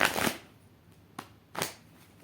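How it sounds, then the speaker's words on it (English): Three quick riffles of tarot cards being shuffled, short papery bursts separated by pauses, close and fairly quiet with no talking. "Shuffle the cards."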